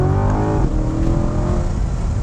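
A 2020 Chevrolet C8 Corvette Z51 V8 engine pulls through a corner, loud and close, its note holding steady then dipping slightly as the revs shift, with no speech.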